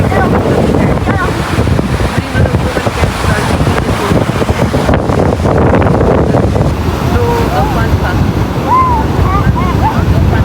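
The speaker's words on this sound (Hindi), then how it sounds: "हालांकि वेव्स बहुत तेज आ रही थी" Heavy ocean surf breaks continuously on a beach along the Prince Edward Island or Nova Scotia coast, loud and close, with strong wind buffeting the microphone and a faint voice or two under the roar.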